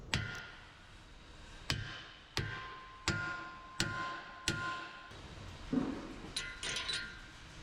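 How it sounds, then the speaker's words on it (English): Hammer tapping replacement teeth into place on a Caterpillar forestry mulcher head, five sharp metallic strikes at a steady rhythm followed by a few softer clinks, close and clear with no talking. "you just slide them in and tap them down with a hammer"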